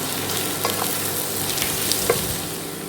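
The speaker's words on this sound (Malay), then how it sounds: "Okey, kita tumis dia sampai dia agak coklat." Onions for French onion soup sauté in a pan until browning, giving a steady close sizzle with faint stirring scrapes and no voices.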